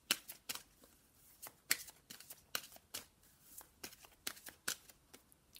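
Oracle cards being shuffled by hand, with irregular bursts of crisp riffling and slapping, some louder and some softer, repeating close by with quiet pauses between and no talk.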